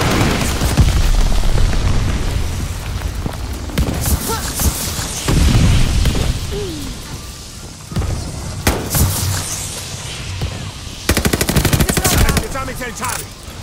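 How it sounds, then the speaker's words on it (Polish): An enemy glide bomb detonates in the video game Call of Duty: Vanguard, heavy booms landing amid a constant roar of machine-gun fire and battlefield chaos, loud and close throughout. "Leci bomba szybująca wroga!"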